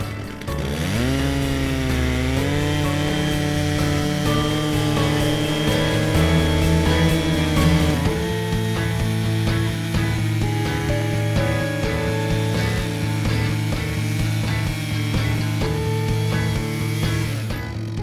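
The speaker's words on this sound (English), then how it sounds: "Make sure that there is free space for the bar nose when you're sawing." Chainsaw cutting a log on a Smart-Timberjig portable sawmill, a loud continuous engine whine that shifts pitch in the first seconds, then holds steady under load while the bar works through the wood.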